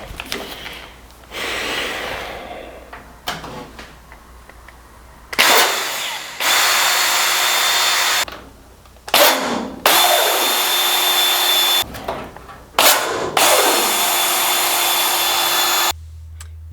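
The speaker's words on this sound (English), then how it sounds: "I'm now going to drill some holes and once again install nut plates for the engine box" Power drill boring holes for nut plates in an RV-7A aircraft avionics panel for the engine box, loud close whine in several long bursts separated by short pauses.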